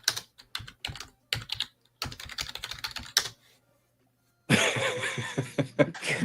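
Quick bursts of computer keyboard typing, close and fairly loud, broken by short pauses, then a denser stretch of clattering keystrokes with indistinct noise underneath toward the end.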